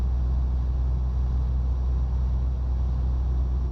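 Truck engine in the Euro Truck Simulator 2 video game, a steady, loud, low droning rumble that holds constant throughout with no talking.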